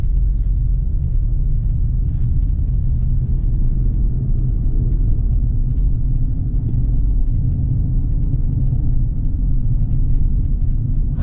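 A lifted 2020 Subaru Outback XT drives along a street, heard from inside the cabin as a steady low road and engine rumble, with faint ticks and clicks over the top and no speech.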